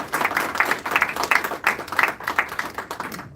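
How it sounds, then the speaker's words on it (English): Audience at a Pakistan human resource seminar in Osaka clapping in a room, a steady patter of hand claps at moderate level lasting a few seconds with no talk. "So I think they deserve a clapping as well."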